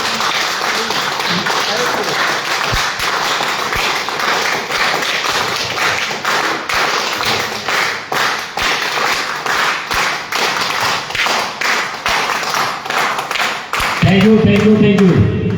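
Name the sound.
audience clapping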